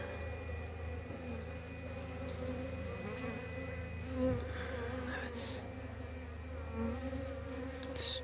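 Honeybees from a weak three-frame colony buzz during a hive inspection, a dense, continuous drone close to the listener with individual bees flying past now and then.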